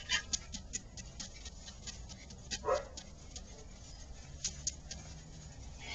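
Six-week-old puppies give faint, scattered yips and small whimpers at close range, over a low background hum, with no talking.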